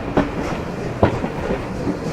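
A steam train pulling out of Swanage station in Dorset rolls along with a steady rumble, broken by a few distinct rhythmic clunks of wheels passing over rail joints.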